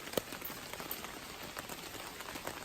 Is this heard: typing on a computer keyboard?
no